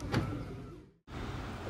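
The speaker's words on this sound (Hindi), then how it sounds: "क्लोज कर देते हैं गाड़ी को।" A Mahindra XUV700 AX7L Dark Edition in Napoli Black being closed up: a soft thump near the start, then a fading hum that cuts to brief silence before a low steady background returns.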